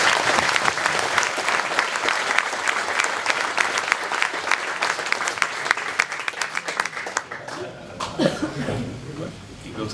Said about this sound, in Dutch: Er is al applaus geweest